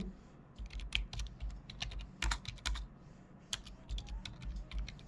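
Rapid, uneven keystrokes patter on a computer keyboard as C code is typed, close and clear with short pauses between bursts and no talking.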